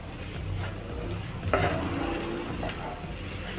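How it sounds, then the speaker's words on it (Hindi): Spices being stirred into cooked potatoes for a samosa filling, a soft, close scraping and mixing in a pan. It runs continuously, with a couple of light clinks partway through and no talking. "एक बार हम इन सभी मसालों को अच्छे से मिक्स कर लेते हैं आलू में"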